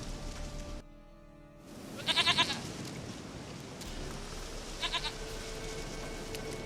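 A goat in The Witcher 3 bleats in two short bursts of wavering, trembling cries, the first longer and the second briefer, over a quiet game ambience with no talk.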